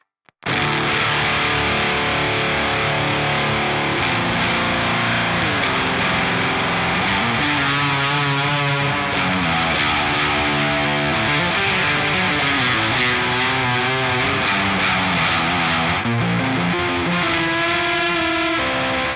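An electric guitar plays through a Fuzz Imp Furia distortion pedal, giving a loud, thick, saturated tone of sustained chords and shifting notes that runs without a break for about nineteen seconds.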